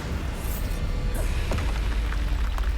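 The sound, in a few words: Bombarda explosion spell in a Harry Potter video game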